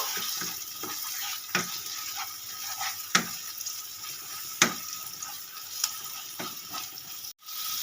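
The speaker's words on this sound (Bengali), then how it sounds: "এবার এর মধ্যে আমি দিয়ে দেবো পেস্ট করা চিংড়ি মাছ এবার আমি একটু নেড়ে ছেড়ে নেব" Shrimp paste being stirred into mashed taro in a pan: a steady soft sizzle-like hiss with scattered scraping clicks of the utensil, close and moderately quiet, with no voices.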